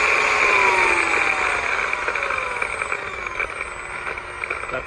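A Makita power buffer running at full speed with its trigger pulled, a steady high-pitched motor whine with a falling tonal sweep and no talking.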